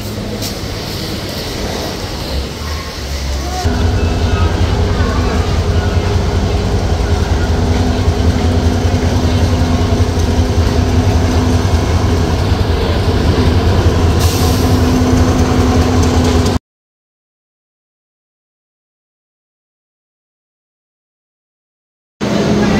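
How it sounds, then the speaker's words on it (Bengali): The Chattala Express intercity train pulls away from platform six at a station, bound for Chittagong; a steady heavy rumble with a low droning hum swells in and holds, then cuts to silence. "ছয় নম্বর প্ল্যাটফর্ম থেকে চট্টগ্রামের উদ্দেশ্যে ছেড়ে যাচ্ছে আন্তনগর চট্টলা এক্সপ্রেস"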